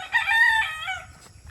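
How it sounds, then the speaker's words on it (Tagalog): A rooster crows once, loud and close, in a long wavering call among free-roaming chickens on a small farm, with faint low clucking and rustling underneath. "Doon na yung mga manok ko."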